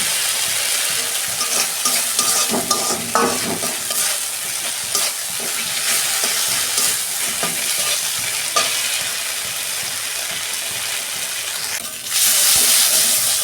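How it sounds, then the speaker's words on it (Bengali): Ginger, garlic and dry chilli paste sautés in a pan for a fish, okra and potato dish, a loud continuous hissing sizzle with frequent spatula scrapes and stirs, ending in a brief sharper burst of steam. "এটা আমি ভালো করে 2 মিনিট কষাবো, আদা রসুনের কাঁচা গন্ধটা চলে যায়"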